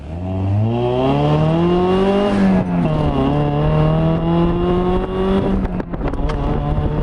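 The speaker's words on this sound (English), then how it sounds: "Here we're going to listen to the car sing." A Mazda Miata with a swapped GM EcoTec engine revs loudly and steadily while driving, pitch climbing and dipping, with sharp crackling pops toward the end.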